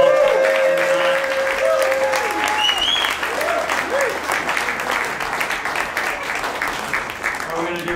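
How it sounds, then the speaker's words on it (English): Audience at a live trio concert in a barn venue applauding, loud and sustained, with a few whistles and voices rising through the dense clapping, which slowly thins toward the end. "let's have a big applause for everyone involved"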